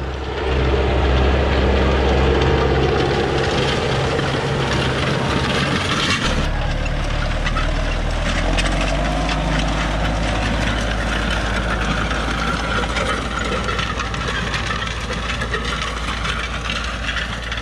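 A tractor pulling a subsoiler and disc through a strawberry field, its heavy engine droning steadily and loudly throughout, with low rumble and clattering of the implement working clumped dirt.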